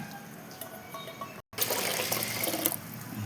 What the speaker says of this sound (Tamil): இப்போ தண்ணி இதெல்லாம் ஊற்றிக்கலாம்.